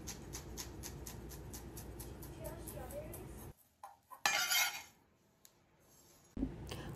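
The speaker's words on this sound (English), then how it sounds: "roll them into a bundle and finely chop" A knife finely chops a rolled bundle of stacked grape leaves in quick, steady strokes, then stops before a brief clatter of kitchenware nearby.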